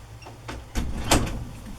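A craft room door swings shut indoors, giving a quiet, brief sliding rush and then a soft closing bump, with no one talking.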